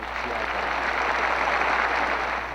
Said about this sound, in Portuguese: A multidão interage e demonstra o amor pelo Papa Emérito com muitas palmas.